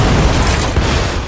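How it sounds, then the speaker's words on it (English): A bomb detonates in a restaurant: a loud, dense roaring blast that fills the whole short moment and then begins to fade, with no voices. "his friends allowed this man to detonate a bomb that had been installed in a restaurant to distract Mike and Steve."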